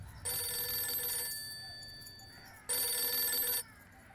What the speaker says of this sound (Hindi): सुनिए, आपका फोन।